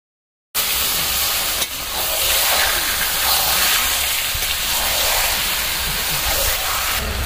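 Chicken meat hits a pan of fried ginger, garlic and tomato, erupting abruptly into a loud, dense, continuous sizzle that holds steady throughout.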